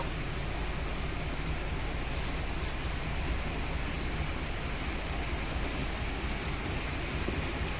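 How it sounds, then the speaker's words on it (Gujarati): Steady heavy rain hisses continuously at an even level, a dense wash of noise with no talking. "તો આ બાજુ જોરથી વરસાદ આવે છે. આખી રાતનો વરસાદ ચાલુ છે."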